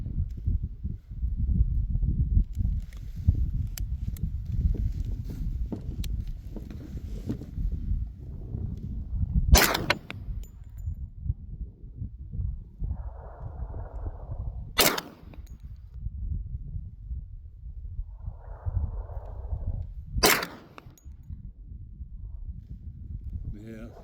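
Three loud, sharp carbine gunshots at a shooting range, fired at a 500-yard target, each about five seconds apart over steady outdoor wind and rustle, with faint muffled thumps after the shots.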